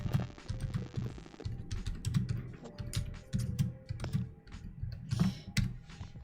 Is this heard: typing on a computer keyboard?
yes